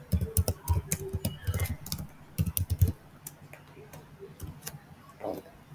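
Computer keyboard typing in irregular bursts of close, crisp key clicks during database entry in Oracle SQL Developer, with short pauses between runs and no talk.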